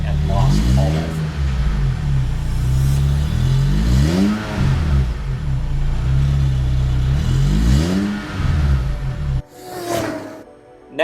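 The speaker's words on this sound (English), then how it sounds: "I finally put an aftermarket exhaust on my Lotus." A Lotus sports car fitted with an aftermarket exhaust, revving hard in loud repeated climbs and drops of engine pitch, a deep exhaust rumble throughout, then a sudden cut to quieter idle near the end.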